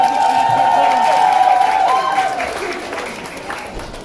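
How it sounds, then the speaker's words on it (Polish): An audience at a swimsuit fashion show applauds loudly and steadily, with a voice briefly audible at the start before the clapping slowly fades. "Przede wszystkim wielkie brawa dla Anny Wędzikowskiej"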